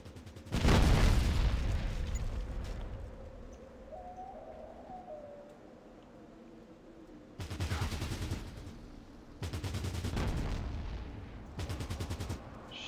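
Gunfire and explosions from the turn-based video game Fallout Tactics come as one heavy blast, then a quieter lull, then three separate bursts of rapid firing, all fairly muted.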